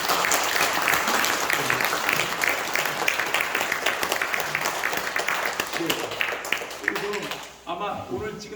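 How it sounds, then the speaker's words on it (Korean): Big round of applause from the audience at a traditional Korean dance performance, loud and sustained for several seconds before tapering off near the end. "우리 한번 큰 박수 주세요."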